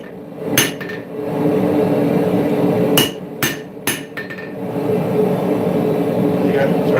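Hammer blows straightening a spear mandrel on an anvil: a few sharp metallic strikes, one single and then a quick cluster of three, ringing close and loud over a steady background hum.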